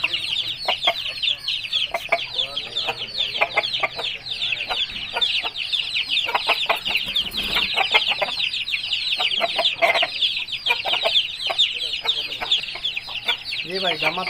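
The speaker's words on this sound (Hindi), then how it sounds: "बहुत अच्छा खूबसूरत असील मुर्गा है" A Thai cross aseel rooster clucks busily amid other chickens, a dense, steady chatter of clucks up close with faint voices in the background.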